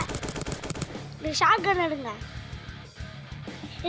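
Shotgun gunfire in the video game Deadly Heist, with a quick burst of sharp shots at the start followed by game sounds, all under people talking.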